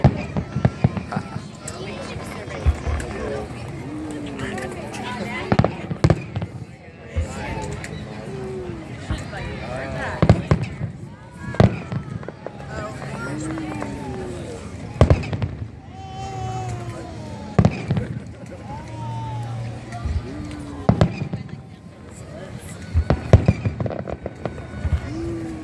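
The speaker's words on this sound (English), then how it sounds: "Minutes of fireworks." Fireworks explode at the Kaboom Town 2014 display, with repeated sharp booms and crackles at irregular intervals, some loud and some more distant, while crowd voices and whistling rockets carry on throughout.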